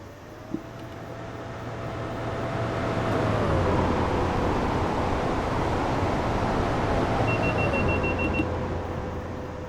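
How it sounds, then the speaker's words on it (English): In the game Train Sim World 6, an eight-car FGW Class 43 HST rumbles past at a steady roar while a high, sustained metallic whine sings from the rails. A brief higher tone joins near the end. "that rail singing just sounds so good"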